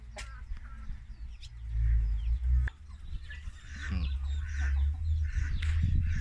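Chickens cluck and squawk close by in a busy farmyard, with scattered calls overlapping a low background rumble.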